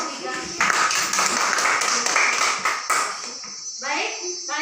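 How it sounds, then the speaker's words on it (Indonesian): A sixth-grade class claps for a presenting student group, a burst of scattered hand claps that thins out, with children's voices chattering over and after it. "tepuk tangan untuk kelompok 3"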